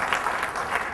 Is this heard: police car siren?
no